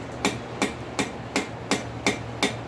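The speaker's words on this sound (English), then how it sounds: "Just a little rotation while you're doing light hammering, keeping everything kind of cutting symmetrically." Light hammer blows on a hot cut tool cutting rivet stock, seven evenly spaced sharp metallic strikes in a steady rhythm, close and clear with no talking.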